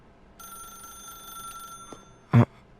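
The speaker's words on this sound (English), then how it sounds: "pick up the phone" A telephone rings in The Stanley Parable video game, a steady electronic ringing tone lasting about one and a half seconds, followed by a sharp loud click as the handset is picked up.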